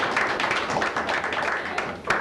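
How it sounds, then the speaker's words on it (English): An audience at a speaking event applauds the host, with steady, dense clapping filling a large room throughout, fairly close and even in level with no talk over it. "I think he deserves a round of applause"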